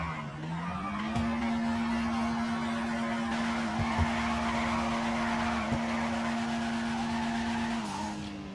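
Tires squeal continuously in a GTA 5 car's full 360-degree drift, with the engine holding a steady high-revving tone that rises at the start and eases off at the end.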